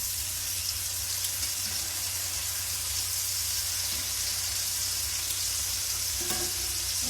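Pork chops frying in butter in a pan give a loud, steady, close sizzle that holds evenly from start to finish, with a faint clink near the end.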